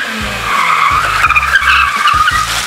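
A car skidding through a handbrake turn in a game with an Aston Martin, loud sustained tire screech over a pulsing engine drone, close and continuous.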